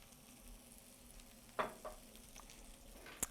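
Pancakes made with dill and broccoli frying in oil in a pan, giving a faint, steady low sizzle with a few soft clinks and taps, quiet and close.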